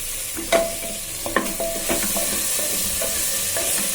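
Onion, green chilli and potato stir-fried in a pan, with a steady close sizzle and a few sharp spatula scrapes and clinks against the pan, no talking.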